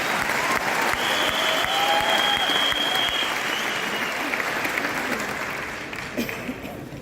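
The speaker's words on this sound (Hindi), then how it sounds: "एक बारी जोरदार तालियां दीपक जी के लिए।" An award-function audience in Delhi gives loud, sustained applause for Deepak, a dense roar of clapping that holds steady and then slowly tapers off near the end.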